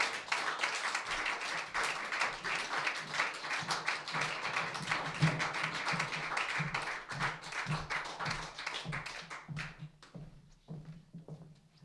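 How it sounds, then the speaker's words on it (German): A modest audience at an evening book reading claps steadily, individual hand claps distinct and fairly close, the applause tapering off and thinning out toward the end. "Dafür braucht es nur Ihren Applaus."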